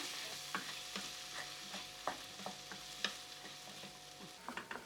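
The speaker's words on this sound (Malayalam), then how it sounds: "ഇവിടെ ഒരു 2 മീഡിയം സൈസ് ഉള്ളിയും പിന്നെ ഒരു ചെറിയ തക്കാളിയാണ് ഞാൻ എടുത്തിരിക്കുന്നത്. ഒന്ന് വഴറ്റി കൊടുക്കാം." Two medium onions and a small tomato sautéed in a pan for chickpea masala, soft sizzling under a series of irregular spoon scrapes and stirring taps, fairly quiet and close, with no voices.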